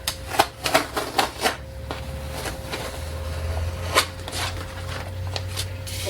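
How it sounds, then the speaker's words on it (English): A freshly cut vinyl decal is peeled up, giving a quick run of sharp crackling pops for a couple of seconds, then a few isolated ticks over a low, steady background hum. "And just peel it up."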